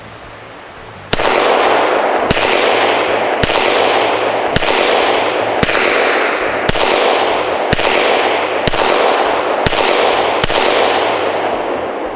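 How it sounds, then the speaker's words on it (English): Dan Wesson Discretion pistol fired at an outdoor shooting range, about ten sharp, loud single shots at a steady pace, each with a ringing echo that decays, and no talking. "it's so soft and flat shooting, and the trigger is just so light and crisp and short that it's easy to shoot it a little too quickly"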